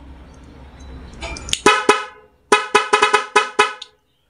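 A double contact car horn on a vehicle fitted with a mini driving light sounds in a fast stuttering pattern, loud and close, with a pair of blasts followed by a rapid run of six quick toots after a brief gap.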